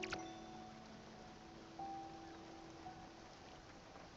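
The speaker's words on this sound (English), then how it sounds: "When it's raining, it's like, shouldn't it, like, water the plants for me?" Soft steady rain in the Spiritfarer video game, a faint continuous hiss with faint game tones running underneath and no voices.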